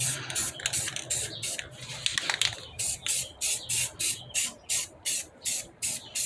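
Spray can paint hissing onto car rims, including the outer lip, in a steady run of short, close bursts about every half second, each a sharp, airy spray.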